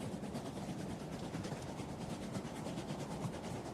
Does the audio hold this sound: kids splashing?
no